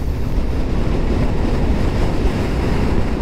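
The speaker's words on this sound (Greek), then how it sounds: "φυσάει δαιμονισμένα" Strong wind roars steadily and loudly across an exposed ridge above the sea on Karpathos, buffeting the microphone without pause and with no voices.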